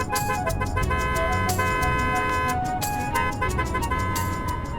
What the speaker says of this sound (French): Mais arrête de klaxonner.